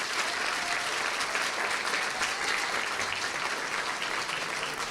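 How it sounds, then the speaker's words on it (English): An audience claps for children at a live presentation, a dense, steady burst of applause that holds at an even level throughout. "give the kids a round of applause for all the hard work that they did"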